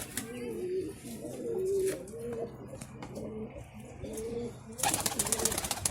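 Pigeons coo repeatedly in soft, low, rolling phrases, with some rustling and a burst of brighter noise near the end.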